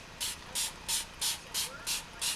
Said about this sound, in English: Chalk Couture misting bottle. I'm going to spray my design.